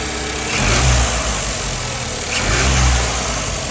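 A turbocharged 2.0T Hyundai Sonata engine with a cold air intake revs up twice, rising and falling in a deep rumble, loud and close with no voices.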